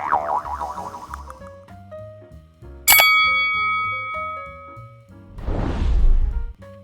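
Bright notification ding effects ring out among playful bouncy synth tones, with one sharp loud bell strike near the middle and a noisy whoosh toward the end, no speech.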